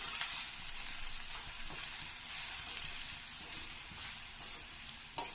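Papad thoran mixture stirred in a hot pan, a soft steady sizzle with light scraping and a few sharper clinks near the end, close and alone.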